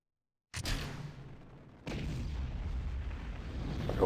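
Rocket fairings separate in the game Kerbal Space Program, a sudden loud burst that breaks from silence, drops to a rumbling roar, then jumps into a second heavier sustained roar, with no talk.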